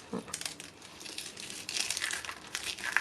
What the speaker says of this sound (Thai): ขยำแบบนี้นะคะกรอบ